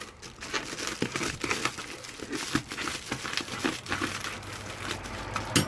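Blade work on VW T4 camper van floor insulation, a dense continuous crinkling and crunching of the sheet material as it is cut and handled up close, loud throughout with no speech.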